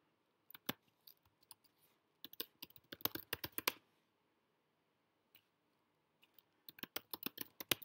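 Typing on a computer keyboard while logging into a Mac, in quick bursts of close, sharp key clicks separated by short pauses, with no talking.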